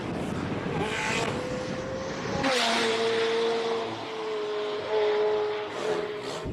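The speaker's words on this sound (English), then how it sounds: "Garth McIntosh launches his 720 off the start line" A McLaren 720S launches off the start line at a Cape Town hillclimb, its engine roaring loudly and close, then settling into a rising, sustained drone as it pulls away, with a brief harsh burst near the end.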